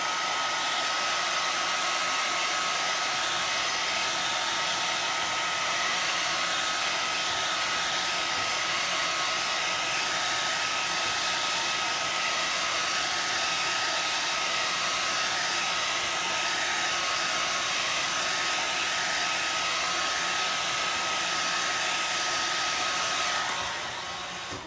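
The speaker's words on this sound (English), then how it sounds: "I'm going to hit it with this dryer, and I'm going to dry this and then lay this back down. I'm going to use cool setting." A hair dryer on its cool setting blows over chalk paste, giving a loud, continuous, even whoosh for about 25 seconds before it cuts off at the end, with no talking.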